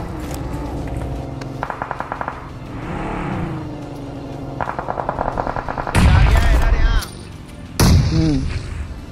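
Gunfire rings out in a shooter video game during competitive scrim matches, with rapid automatic bursts and heavier sustained volleys, loud and close, amid vehicle-like engine noise and faint voice-like sounds.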